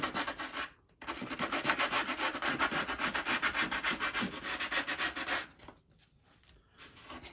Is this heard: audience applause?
no